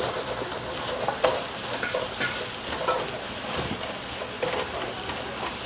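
Ginger garlic paste stirred steadily in a hot pan for chicken biryani, a constant close sizzle of frying with scraping strokes of the spoon and no voices.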